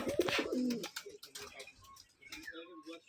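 Rajshahi Giribaj pigeons kept in an old home loft coo in low, throaty bursts near the microphone, with faint chirps and rustling through the remainder.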